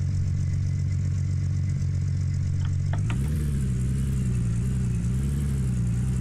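A vehicle engine in the Gold Rush video game idles steadily, then a faint clatter is followed by a rise in pitch and load as it pulls away, holding a low rumble to the end.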